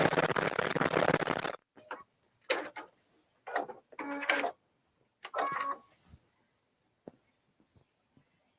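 A sewing machine set to zero thread tension runs in a quilting session, a dense burst of rapid stitching followed by several short, stop-start runs of stitching separated by near silence.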